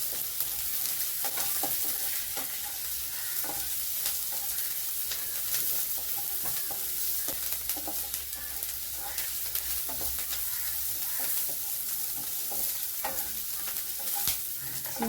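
Cumin and shrimp fry in a pan with reddened onion, giving a continuous dense sizzle. Frequent sharp scraping and tapping from a spatula stirring the mix runs throughout, close and steady.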